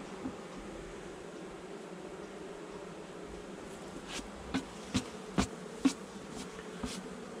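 Honey bees buzz steadily and close during a hive inspection, a dense continuous drone with a few sharper individual passes near the end and no talking.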